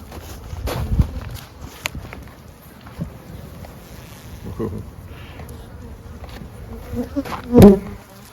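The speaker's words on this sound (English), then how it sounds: "very often it's the case where the bees will cluster up at the top here" Honeybees buzz around an opened hive, a faint, wavering hum close by, broken by a few soft knocks and handling thuds from working the hive.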